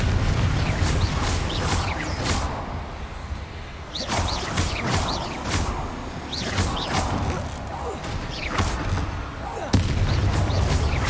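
Confringo fire-blast spells cast during Hogwarts Legacy combat, a series of sharp whooshing bangs repeating every second or so, loud and busy with other fight noise, one hard hit near the end.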